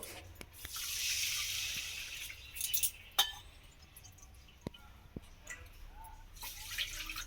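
Water poured from a bowl into a pan of sugar for syrup: a brief splashy pour early on, then scattered clinks and drips, fairly quiet.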